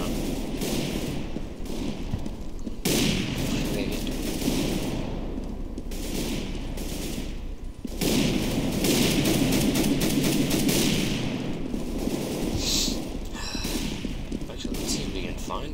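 Rapid bursts of gunfire from the video game CS:GO crackle through a dense, busy mix, with volleys recurring across the round while a player talks over them.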